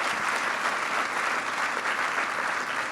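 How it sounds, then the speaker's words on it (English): Steady, full audience applause fills a 10th-anniversary Philanthropy Tank finals celebration, honoring alumni who presented their programs. The dense clapping holds at an even level throughout. "So how about a big round of applause for all of our alumni"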